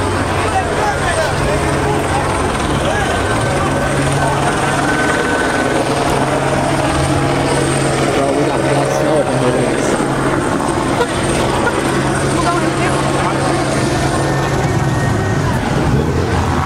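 Police helicopters hover overhead during a Crenshaw street takeover, their steady rotor drone loud and continuous throughout, with background crowd noise and passing traffic beneath.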